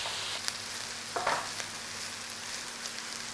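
Hard vegetables for a chicken pie fry in a pan with a soft, even sizzle, joined by a couple of light scraping and clicking sounds from stirring.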